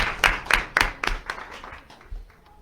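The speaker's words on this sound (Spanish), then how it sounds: "les pido un fuerte aplauso para él." Audience applause at a panel discussion on water in Querétaro, heard as a string of distinct, evenly spaced claps that start strong and gradually fade out.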